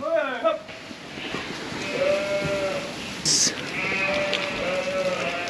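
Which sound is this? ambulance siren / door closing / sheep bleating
sheep bleating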